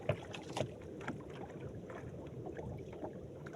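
A small boat sits far out at sea in cold wind, with low rumbling gusts buffeting the microphone and faint water slaps against the hull.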